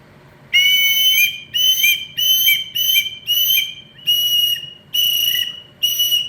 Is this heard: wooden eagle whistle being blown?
yes